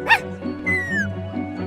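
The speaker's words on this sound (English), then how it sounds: "Got some fine puppies here." Puppies in the video game Minecraft: Story Mode give a sharp yip, then a drawn-out whimpering whine and a softer bark, close and clear over a low steady background tone.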